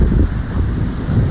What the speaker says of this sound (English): A bit windy out.